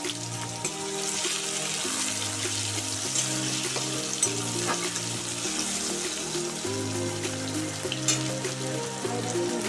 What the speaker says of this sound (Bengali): টমেটোগুলো সিদ্ধ হয়ে যাওয়া অবধি ভালোভাবে ভেজে নিলাম।